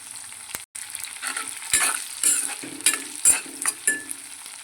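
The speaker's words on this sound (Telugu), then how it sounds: "ఆయిల్ అయితే హీట్ అయిపోయిందండి జీరా వేసుకున్న తర్వాత కొంచెం ఆవాలు అయితే వేసుకోండి కొన్ని ఆనియన్స్ అయితే వేసుకోండి" Cumin, mustard seeds, onions, green chillies and curry leaves sizzle and spatter in hot oil for a bottle gourd curry, a steady close frying hiss broken by several sharp bursts and a few light utensil clinks, with no voices.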